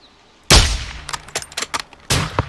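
Sharp gunshots ring out in Call of Duty: Modern Warfare II, a loud blast followed by a quick scatter of smaller shots and clanks, then another heavy report near the end.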